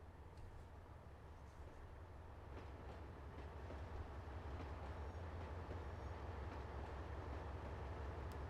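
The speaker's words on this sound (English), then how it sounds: "Oh, that train's going on that track." A train in the Trainz Simulator 2 video game rolls along the track with a steady rumbling roar and faint wheel clatter, continuous and fairly quiet throughout, with no talking.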